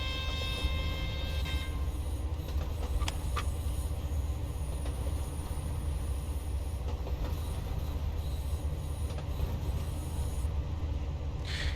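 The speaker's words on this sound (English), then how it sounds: "And we can use our train brake a bit." A train on the Niddertalbahn coasts downhill under a manually lapping brake, giving a steady rolling rumble with faint wheel squeal and clicking over the rails, close and continuous, with no talk.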